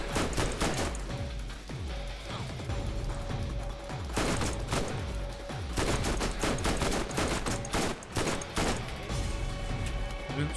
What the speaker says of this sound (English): Someone's got a scud launcher or grenades.